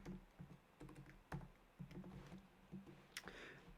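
Typing on a computer keyboard while writing script code, a quiet, close series of irregular key clicks and taps with short pauses between bursts.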